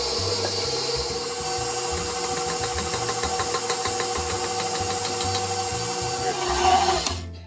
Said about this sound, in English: Incorporate that well with the mixer, and then just keep doing that until all of the dough kind of sticks together.